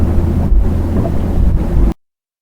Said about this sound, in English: Mid-morning, the wind really started to blow